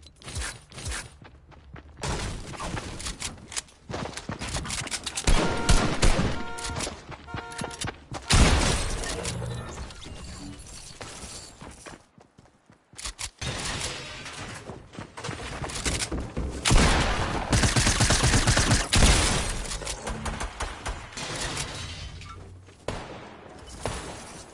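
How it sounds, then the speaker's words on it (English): Sniper rifle shots in a Fortnite solo match: several sharp, punchy reports spread among bursts of other gunfire, footsteps and clattering game effects, loud and close with brief quiet gaps. "I can't believe that I missed that sniper shot"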